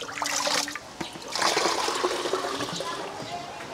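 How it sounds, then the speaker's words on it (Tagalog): Water runs and splashes steadily into a container on a free-range chicken farm in Cebu, a continuous trickling pour with a brief dip before it resumes fuller, close by. "So punan na tog tubig para mapuno siya."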